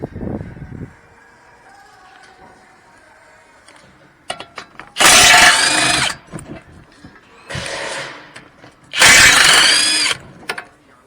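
Power tool on a Cadillac XTS with Brembo front brakes removing the 21 mm brake caliper bolts, in loud close whirring bursts of one to two seconds separated by quieter clicks and shop noise.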